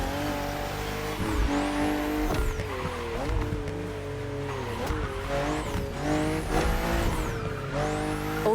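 BMW M2 and M4 cars racing in The Crew Motorfest on a narrow track full of sharp bends, with engines droning and shifting pitch continuously, loud and close, and tires squealing through the corners.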